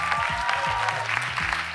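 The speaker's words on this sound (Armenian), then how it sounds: "Ծափահարում ենք խորեոգրաֆներին" Audience applause at a song contest final, a steady dense clapping that fills the whole stretch, loud and continuous.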